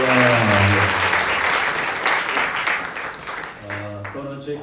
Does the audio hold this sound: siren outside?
no